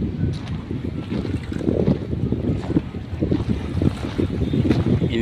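A motorboat circles on the water off Dolomite Beach, its low engine rumble steady and moderately close, mixed with wind buffeting the microphone and splashing water throughout.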